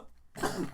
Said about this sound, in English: I'm sorry I'm coughing so much.